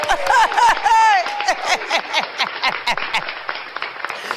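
A crowd claps enthusiastically, mixed with whoops and shouted cheers, loud and close throughout.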